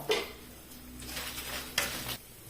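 Coriander seeds, mustard, fenugreek and a lump of hard asafoetida frying in a pan, a soft steady sizzle broken by a few louder stirring scrapes of a spoon against the metal.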